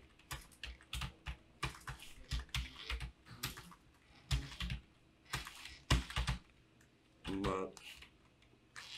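Rapid bursts of clicky computer-keyboard typing while writing in Microsoft Word, uneven clusters of keystrokes close to the mic, with a voice talking in between.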